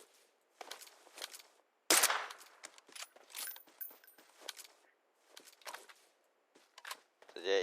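A loud, sharp rifle shot in a shooter video game, a single burst near the two-second mark standing out among quieter clicks, footsteps and movement sounds.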